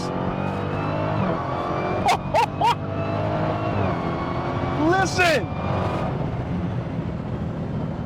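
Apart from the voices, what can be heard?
supercharged car engine revving with whine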